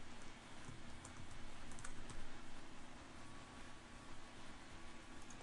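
Someone types a username and password on a computer keyboard: faint, soft, irregular key clicks under a constant low hiss.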